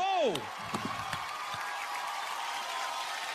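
Awards-show audience applauds the Diya Aur Baati Hum team as it wins the Star Guild Award for Best Ongoing Drama Series; a brief voice opens, then steady, dense clapping fills the rest of the moment.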